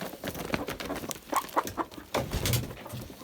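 Last year's hens, now in their second year, being let out on a farm: short soft clucks and rustling scattered over a few seconds, fairly close, with no talk.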